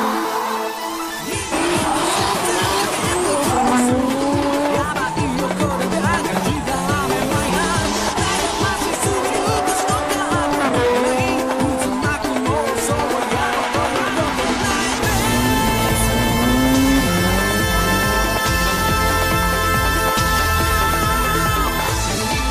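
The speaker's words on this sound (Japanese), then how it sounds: "ドリフト追走バトル" A drift car howls loudly through a Japanese touge mountain pass during a 2007 chase battle, engine wailing continuously with rising and falling revs; later a steady higher tone and busy background take over.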